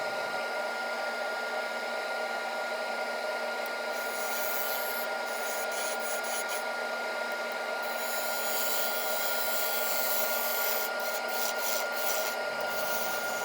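A woodturning lathe spins a maple burl held in a four-jaw chuck while it is hollowed out, giving a steady whirring hiss broken by brief, harsher scraping bursts.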